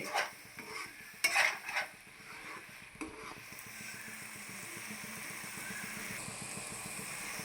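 Egg and masala frying in a pan for egg rice, a steady low sizzle with spatula scrapes and clinks against the pan near the start, then continuous quiet frying.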